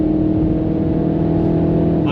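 A Mini Cooper S F66 drives a twisty German road, its engine holding a loud, steady drone inside the cabin with no clear revving changes.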